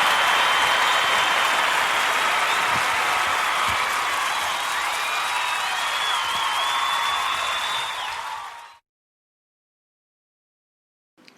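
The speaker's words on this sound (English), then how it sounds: "Thank you for your wonderful round of applause." Studio audience of a talk show applauds steadily for about eight seconds, a loud, dense wash of clapping with a few cheers, then it cuts off abruptly into near silence.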